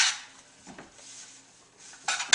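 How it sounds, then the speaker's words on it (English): Kale leaves tossed with olive oil, salt and pepper in a pan or bowl, giving soft rustling and a few light clinks of utensil on dish, with a sharper clatter near the end. "I'm going to give that a toss so that the olive oil coats all the leaves."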